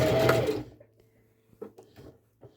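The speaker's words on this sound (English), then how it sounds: "I'm going to back stitch it." A sewing machine runs a short burst of back stitching along a pajama pants seam, loud and close, then stops, followed by faint clicks and small handling noises.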